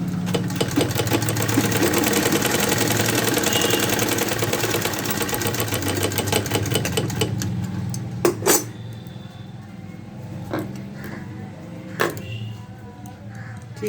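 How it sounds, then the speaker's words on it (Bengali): A sewing machine runs fast, stitching a blouse crosswise, a steady close mechanical whirr with rapid regular needle ticks for about seven seconds, then slowing and stopping, followed by scattered handling clicks and fabric shuffling. "এখানে একটা ক্রসভাবে আমি সেলাই করবো"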